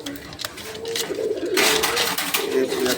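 Sky-blue Rasgolla pigeons at a farm coo in low, repeated throaty calls close by, while someone talks loudly over them and other pigeons shuffle in the background.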